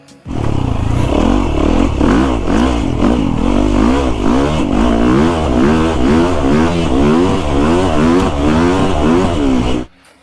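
A custom-built Yamaha YZ450FX dirt bike engine revs hard and close, its pitch climbing and falling in repeated throttle blips before cutting off abruptly at the end.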